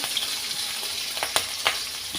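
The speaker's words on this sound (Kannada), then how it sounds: "ಇದಕ್ಕೆ ಹಸಿಮೆಣಸು ಒಂದು ನಾಲ್ಕು ಸಣ್ಣ ಸಣ್ಣದಾಗಿ ಕಟ್ ಮಾಡಿದ್ದು ಹಾಕ್ಕೊಳ್ತಾ ಇದ್ದೇನೆ" Finely chopped green chilies frying in hot oil in a pan for dal tadka, a close continuous sizzle with a few sharp crackles and pops.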